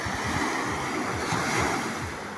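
Sea surf rolls and washes steadily at high tide on open water, with a continuous broadband roar and repeated low wave surges, with wind noise buffeting the microphone throughout.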